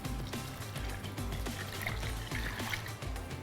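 Water poured into a pan of sprouted moth beans, a steady trickling pour close up that runs almost the whole time, with low rumbling underneath.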